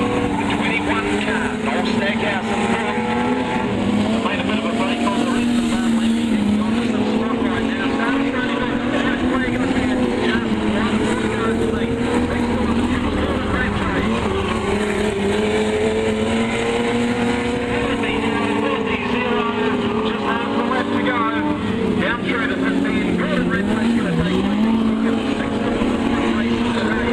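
Sprint cars race around a track, their engines droning loud and continuous as the pack goes through the corners, with a commentator's voice running over the roar throughout.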